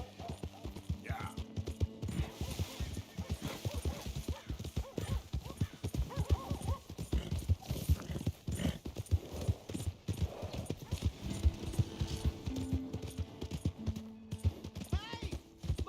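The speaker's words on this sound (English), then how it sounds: "Hey! My horse!" Horse hooves clip-clop steadily throughout in Red Dead Redemption 2, with a whinny rising near the start, over continuous in-game ambience and faint background voices.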